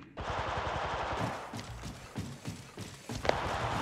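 Automatic weapon fire in Apex Legends, rapid bursts of shots at moderate distance, along with footsteps and game effects, fairly quiet overall.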